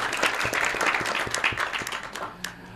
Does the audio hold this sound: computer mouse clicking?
no